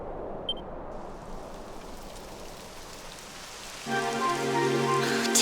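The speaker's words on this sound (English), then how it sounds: "It would have to go and start raining, wouldn't it?" Steady rain falls in the Dragon Quest XI game world as a constant hiss of drops on surfaces, and a layered musical tone comes in near the end.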